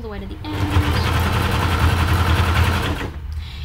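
A sewing machine runs steadily through fabric for a macaw fursuit in one loud, continuous stretch, with a brief voice heard just before it starts and again after it stops.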